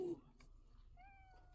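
A cat meows once in the LOTRO video game, a short rising tonal call near the end, faint under background game ambience after a brief voice at the start.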